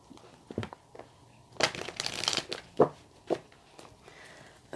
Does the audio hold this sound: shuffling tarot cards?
yes